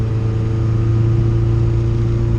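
A modified car with flex-fuel injectors and a boost controller is revved hard in third gear, a loud, steady engine drone close to the listener, with no talking.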